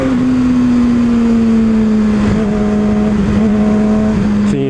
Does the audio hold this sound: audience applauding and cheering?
no